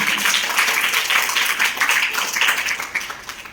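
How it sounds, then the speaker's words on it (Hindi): Loud, dense applause and clapping from a room of students, sustained for several seconds before starting to thin out at the end. "जोरदार तालियां।"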